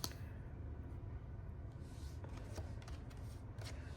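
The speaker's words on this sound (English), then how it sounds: "So I'm gonna try to pull out all the cards before I start talking." Tarot cards shuffled and drawn from a deck, a steady soft papery riffle and rustle running throughout, close by with small flicks and taps.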